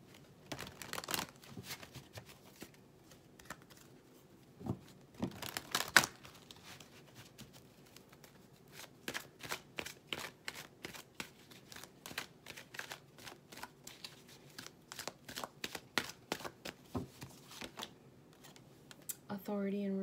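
A deck of oracle cards being shuffled by hand, a long run of rapid riffling clicks and soft flicks in bursts, close and quiet, with a voice speaking briefly near the end.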